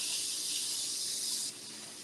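Tap water runs in a steady, fairly soft hissing stream while cooking ingredients are rinsed for a Jamaican brown stew chicken. Partway through, the flow drops to a lighter trickle.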